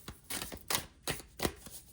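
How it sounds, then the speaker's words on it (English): Cards are shuffled in a handful of short, crisp bursts, each a quick papery flutter, close and fairly quiet with no talking. "they want me to shuffle the cards"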